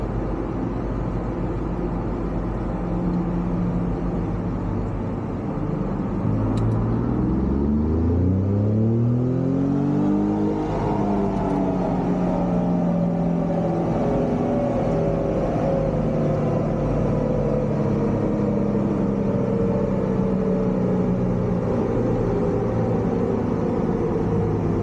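A Ford Raptor truck engine runs on a dyno, a loud continuous roar whose pitch sweeps up through the gears as it revs, then holds a high, droning whir to the end.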